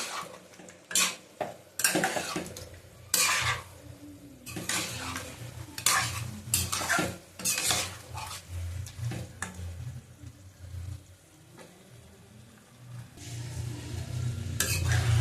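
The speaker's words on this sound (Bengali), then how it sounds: "মাংস সিদ্ধ করেছি, তার জলটা অল্প অল্প করে দিয়ে দেবো। এই যে বেশি দেবো না, আবার কষিয়ে নেবো" Boiled chicken is stir-fried in a yogurt gravy, a close metal spoon scraping and knocking against the pan in uneven bursts, with a low sizzle beneath and a rising fry hiss toward the end.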